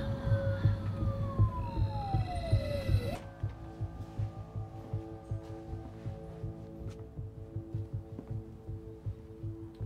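An ambulance siren wails with a falling tone for a few seconds in the Korean series All of Us Are Dead, then gives way to steady droning tones and rumble, fairly close.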